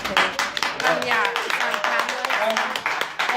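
Comedy club audience clapping and laughing after a stand-up joke about fathering two baby girls, a steady patter of many hands with voices and cheers mixed in throughout.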